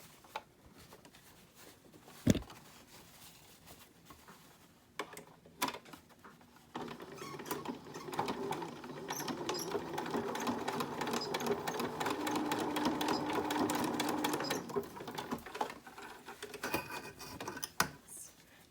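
A sewing machine stitches down the wire channel on a fabric face mask, a close rapid mechanical whirring and ticking that builds into a sustained run after a few short starts and knocks.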